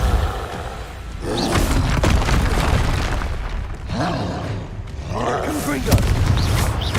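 The Depulso spell blasting in Hogwarts Legacy: a dense, loud wash of booming impacts and rumbling roar that runs without pause, with voice-like effort cries in the middle of the game audio.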